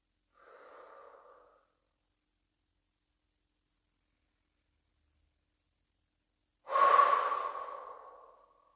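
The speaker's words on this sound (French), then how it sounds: "C'est l'air qui pénètre par mes narines, l'air que je souffle par la bouche qui me permet de me relaxer." A person breathes during a relaxation exercise: a soft inhale through the nose, a long pause of silence, then a louder, longer exhale through the mouth, close and alone.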